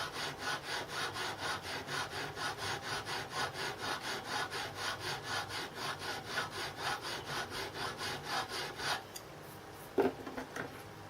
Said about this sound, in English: I can now see where my draw filing is working